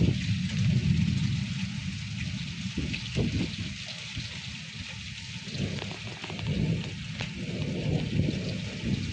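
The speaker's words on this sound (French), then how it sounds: "la pluie qui rentre par la fenêtre" Steady heavy rain from a supercell thunderstorm coming in through a window, a constant close hiss with scattered drip-like taps and a low rumble underneath; no voices.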